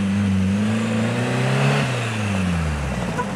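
Lada Niva off-road cars on a hard track, a mid-pitched engine droning steadily with a couple of pitch rises and falls as it accelerates and eases off, fairly close and continuous.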